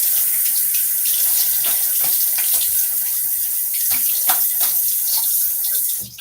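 A tap runs steadily into a sink as a face is rinsed after shaving, with a close, continuous rush of water and scattered splashes.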